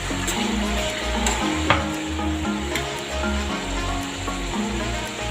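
Steady sizzling of liver frying in a pan, close up, with occasional stirring scrapes and clinks over the continuous crackle.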